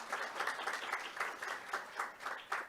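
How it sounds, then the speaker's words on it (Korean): Conference audience applauding after a prime minister's congratulatory speech at an opening ceremony, a steady wash of many hands clapping at a distance, fairly faint and continuous. "여러분 다시 한번 큰 박수 부탁드리겠습니다"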